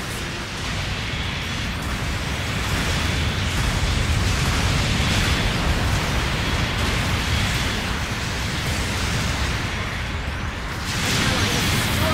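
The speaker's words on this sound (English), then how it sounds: "Long-range support fire incoming" Long-range support fire pounding the battlefield in Gundam Battle Operation 2 as a dense, continuous roar of blasts and rumble, loud and close throughout, with brief surges near the end.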